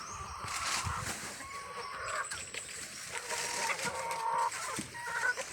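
A flock of chickens clucking and squawking close by, many birds calling over one another in a busy, continuous chatter.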